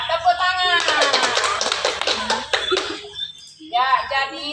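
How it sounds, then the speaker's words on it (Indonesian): Classroom of children breaking into a short burst of clapping, a dense patter of many small hands lasting about two seconds, framed by a teacher's voice speaking before and after. "Ya, tepuk tangan."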